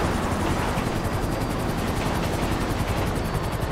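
Helicopter rotor in GTA V descending to land, a steady loud broadband whir with a fast rhythmic chop throughout, no speech over it.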